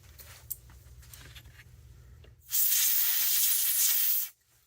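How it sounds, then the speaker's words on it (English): After some quiet handling clicks, compressed air blasts a gel blaster's anti-reversal latch and spring assembly clean in one loud, close hiss lasting about two seconds, then cuts off sharply. "then we can use some compressed air."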